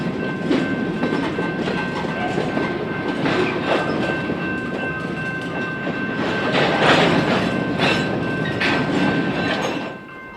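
A Union Pacific freight train with rebuilt GP38N locomotives rolls past on a switching run, a loud, continuous rumble with rhythmic wheel clatter and squealing, easing off at the very end.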